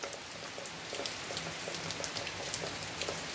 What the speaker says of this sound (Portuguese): continua chovendo e o chão já tá bem molhado e a água correndo